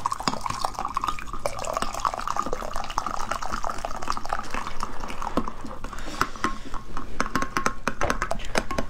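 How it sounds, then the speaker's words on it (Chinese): Boiling water poured from an electric kettle into a bowl, a steady close liquid pour with drips and splashes running through the whole stretch, no talking. "然后要倒那个滚开的水，一定要滚开的水，必须烧开的，"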